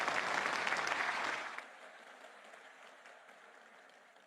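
Audience applause at a Prime Minister's address, a fairly faint burst of clapping that fades out after about a second and a half into quiet room tone.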